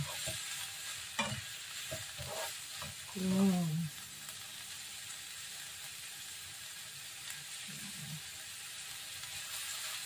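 Cabbage being sautéed in a pan for a Filipino cabbage omelette, with a steady soft sizzle and occasional scraping stirs, plus a brief louder clatter near the middle and faint background voices.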